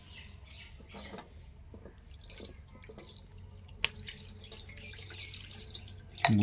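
Ganges water poured over a deity idol during a ritual bath: soft trickling and dripping water with a few distinct drops, fairly quiet and close, ending in a louder splash; faint bird chirps in the background.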